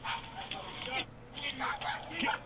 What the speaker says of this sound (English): Her little Pomeranian.